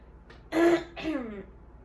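A single close cough, harsh and throaty, followed by a shorter raspy clearing of the throat.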